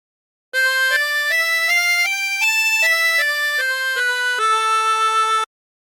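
Harmonica plays a phrase of God Rest Ye Merry Gentlemen with bent draw notes, a continuous legato run of about ten stepwise notes ending on a held low tone, clear and close.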